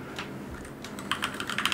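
Quick keystrokes on a computer keyboard, typing a name into a visual page builder, patter in a fast irregular burst near the microphone, with no talk.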